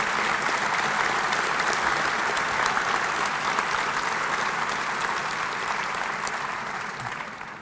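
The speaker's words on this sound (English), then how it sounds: "let's give them one big round of applause" A large ceremony audience gives sustained applause for West Virginia University Sports Hall of Fame inductees, a dense, even roar of clapping that tapers slightly toward the end.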